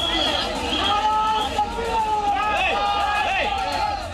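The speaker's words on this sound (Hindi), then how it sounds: "दाल मंडी की गलियों में भीड़ अल्लाहू अकबर का नारा लगाने लगी" Crowd chanting a religious slogan in the narrow Dal Mandi lanes, a dense wash of many voices with loud shouted calls rising and falling, steady and close throughout.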